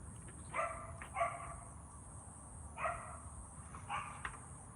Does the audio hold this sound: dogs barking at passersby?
yes